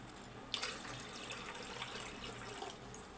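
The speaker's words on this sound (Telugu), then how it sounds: "ఇందులోనే వాటర్ వేసుకుందాం." Water runs steadily into a cooking pot for chicken biryani rice, a soft continuous splashing pour with a brief louder splash near the start, faint and close with no talking.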